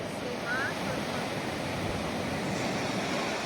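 Ocean waves washing on a shore, a steady broad rushing surf with wind buffeting the microphone, constant and fairly loud, with no distinct voices.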